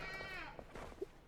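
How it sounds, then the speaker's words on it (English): A sheep bleats in the Enshrouded video game, a single wavering, quavering call near the start with other faint game sounds around it, moderately loud and not masked by talk. "there just a sheep in here?"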